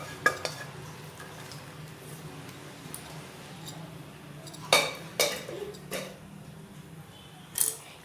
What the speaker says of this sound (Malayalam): ഇതിലേക്ക് നമുക്ക് വേവിച്ച് വെച്ചിരിക്കുന്ന പരിപ്പ് ഇട്ട് കൊടുക്കാം.